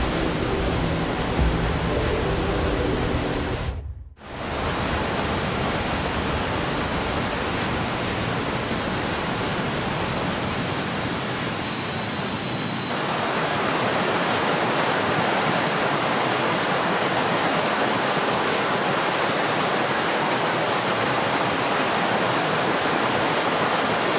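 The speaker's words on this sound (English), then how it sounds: "Underground pipes burst, streets turned into rivers" Floodwater rushes through city streets in Sichuan as underground pipes burst, a loud continuous roar of torrential water that briefly drops away before returning, then swells broader and fuller with no voices.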